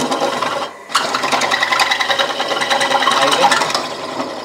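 A small belt-driven electric motor whirs steadily at close range after a brief start, with a fast, even rattling buzz and no talk over it.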